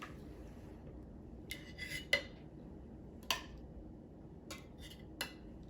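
Knife and utensils clink and scrape against a plate while a portion of meatloaf is cut, a few sharp metallic taps spread out over quiet background, with no talk.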